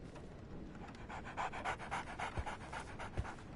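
Rhythmic dog panting in the game Sherlock Holmes The Awakened, quick quiet breaths repeating in a steady pulse, close and alone with no talk.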